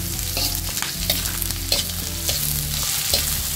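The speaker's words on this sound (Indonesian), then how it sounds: "Jadi menggoreng di sini jangan sampai kering ya, cukup layu aja." Ingredients for an egg and tomato dish sizzling steadily in a hot pan, with repeated scraping strokes of a spatula stirring at a regular pace throughout.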